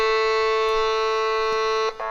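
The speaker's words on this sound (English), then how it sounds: "But the buzzer goes off before he can get it off." At the end of a quarter in a youth 18U boys' basketball game at a high school gym, a single loud, steady electronic buzzer blares for about two seconds and then cuts off abruptly.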